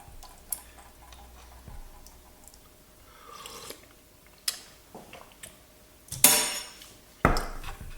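A person takes a taste of Greek lamb fricassee in lemon sauce, with quiet close chewing, light cutlery clicks against a plate, and a few louder clatters near the end, no speech.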